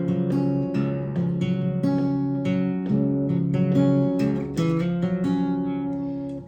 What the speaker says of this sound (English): the strumming pattern or the picking pattern he's got going on for that first chord sounds like this